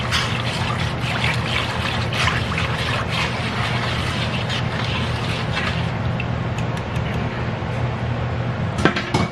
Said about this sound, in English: Now I'm going to stir it.